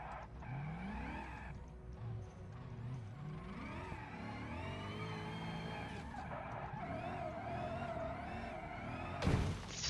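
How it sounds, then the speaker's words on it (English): Car tyres skidding and squealing in the BeamNG driving game, long wavering screeches over engine drone with shifting pitch, continuous and fairly quiet, ending in a short burst of noise. "It doesn't even matter that I shred the tyres"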